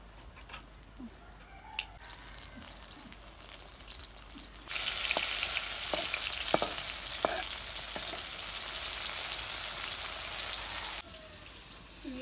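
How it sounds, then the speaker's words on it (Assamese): Bitter gourd coated in gram flour fries in a pan with a loud, steady sizzle that starts abruptly and holds for several seconds, sprinkled with sharp pops and crackles, then cuts back to a quieter hiss. "আমাৰ কেৰেলা ভাজি বেচন ফ্ৰাই হৈ গ'ল"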